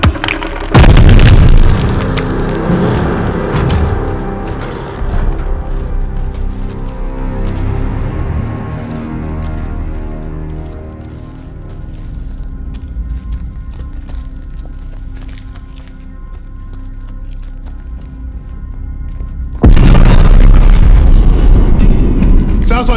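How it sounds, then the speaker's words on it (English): Grenades explode in the Call of Duty Vanguard campaign mission Operation Tonga: one heavy, loud boom at the start and another near the end, with rumbling battle noise and scattered impacts in between. "Grenade! Get down!"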